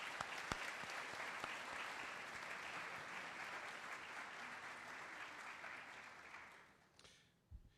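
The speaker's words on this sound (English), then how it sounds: "A nice round of applause for them." A school honors-night audience applauds the graduating class with sustained, dense clapping that holds steady at a quiet level, then fades out near the end.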